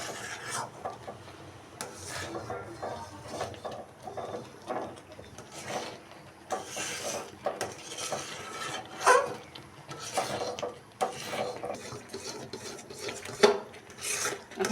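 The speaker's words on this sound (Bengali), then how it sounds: "কাঁঠালের বিচি দেবার পরে অনরবত নাড়তে হবে" A jackfruit-seed sweet cooking in a pan with milk and being stirred constantly, giving a steady rasping, scraping rhythm of spoon against pan at a soft, close level.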